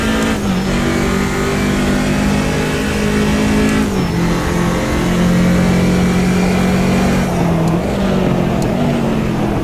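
A BMW 2002 Turbo racing at Silverstone in the Automobilista 2 sim, its turbo engine droning loud and steady at high revs with brief pitch dips at gear shifts, continuous throughout.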